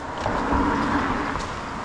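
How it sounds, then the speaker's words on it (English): A car passes by on a road in the south end of Newcastle, a steady broadband rumble heard close from inside or beside a moving vehicle, with no talk. "There's a car coming, so"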